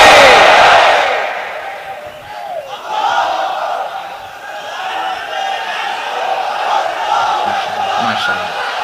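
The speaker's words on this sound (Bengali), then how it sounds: "তাকবীর পড়ুন, লিল্লাহি তাকবীর।" A crowd at an Islamic sermon gathering shouts the takbir, a loud massed chant that swells at the start, dips, then rises again into a sustained, reverberant roar of many voices.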